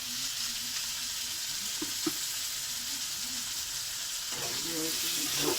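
Pointed gourd and potatoes fry in a pan with a steady, close sizzle and hiss throughout, broken by a few soft stirring scrapes and clinks.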